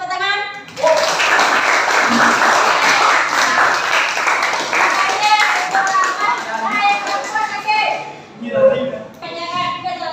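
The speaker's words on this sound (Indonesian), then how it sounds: "Nah, ini tepuk tangan." A class of students claps hands together in a classroom, a sustained, dense round of clapping that fills most of the stretch, with children's voices heard at the start and end.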